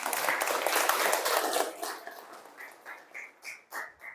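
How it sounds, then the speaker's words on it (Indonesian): Audience applause in an Indonesian teacher-training classroom, a dense burst of clapping for about a second and a half that thins into scattered, fading claps, with faint voices underneath. "Tepuk tangan."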